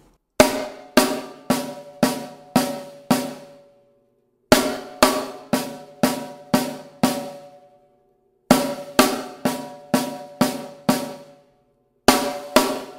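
Paradiddle-diddle six-note rudiment played on a snare drum: crisp, loud strokes in quick groups of six, repeated four times with short pauses between bursts, alone with no talking.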